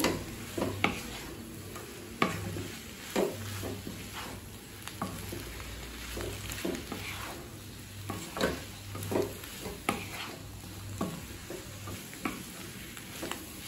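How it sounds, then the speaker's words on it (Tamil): Chilli parotta is stir-fried in a pan, with repeated sharp scrapes and taps of a spatula over a soft, steady sizzle, close up and without talk. "நல்ல பரோட்டா மேல கோட் ஆகிற மாதிரி வதக்கிக்கலாங்க."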